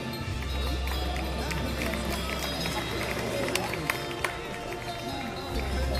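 An audience at a large livestock show applauds a Parthenaise bull: continuous, even clapping from many hands over a low background hum, with a few sharper claps standing out near the end.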